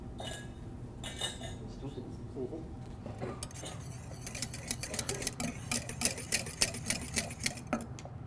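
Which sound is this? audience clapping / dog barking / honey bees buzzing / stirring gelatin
stirring gelatin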